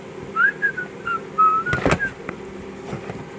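A person whistles a short, wavering tune while working on a car in a garage, replacing a crankshaft position sensor on a 2004-2008 Pontiac Grand Prix with a Buick 3800 Series III engine; a few soft clunks and knocks of tools follow.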